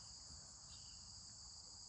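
Steady high-pitched cricket chirring fills the background, continuous and even, with a soft low rumble beneath it.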